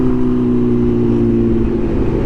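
Motorcycle engine while riding through light city traffic, a steady loud low drone with a constant hum and no pauses, heard close throughout.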